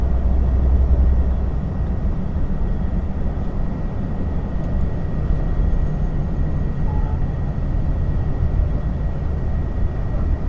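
Slow city traffic in Pasay along Libertad, heard from inside a truck with a check-engine fault: a steady, loud low rumble of engines and road noise that continues without a break and with no talk.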